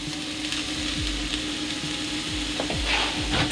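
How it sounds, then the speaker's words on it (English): Onion, corn and black beans sizzle and fry steadily in a hot skillet, a loud continuous crackle with a few low thumps and stirring scrapes throughout. "I'm going to add this onion to the hot skillet. I'm going to add some corn, the black beans,"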